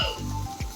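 Onions, shallots and tomatoes sauté in a pan with a soft, steady sizzle, interrupted by a brief stir partway through.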